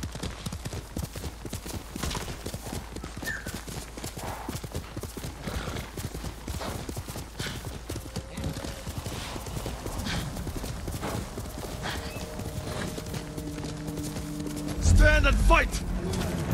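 Horse hooves gallop at a fast, steady clip-clop in the video game Ghost of Tsushima, close and continuous, with a whinny and a thud of impacts near the end over game ambience.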